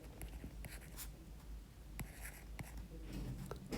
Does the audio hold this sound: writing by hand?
yes